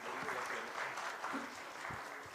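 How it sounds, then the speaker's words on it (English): A presenting team at a KIAMS event draws steady audience applause, a dense wash of clapping that holds for the whole stretch at a moderate, slightly distant level. "Can we please have a huge round of applause for all the teammates?"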